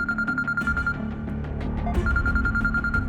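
A telephone rings with a bright electronic trill repeating in quick pulses, breaking briefly before resuming, over a low rumbling background bed.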